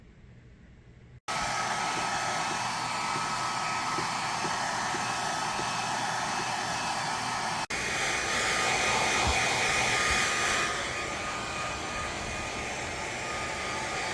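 A hair dryer blows on a cold newborn lamb, switching on after a short quiet start and then running as a loud, steady whoosh for the rest of the clip.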